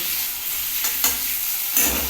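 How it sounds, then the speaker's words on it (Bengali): Potatoes frying in a pan of oil sizzle steadily with a constant hiss, broken by a few sharp crackles. "এই দেখো ভাজাও হচ্ছে"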